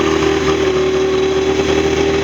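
A 1990 48 Special engine runs loud and close with a steady buzzing drone and a firm constant tone as the throttle is held open, with no talking.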